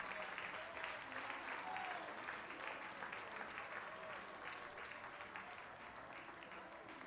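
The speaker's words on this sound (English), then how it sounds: "The crowd claps it up for Ginger." A ballpark crowd at a minor-league baseball game between the Rockford Rivets and Kokomo Jackrabbits claps for a player, a steady wash of scattered applause from a moderate-sized crowd lasting several seconds, with faint voices mixed in.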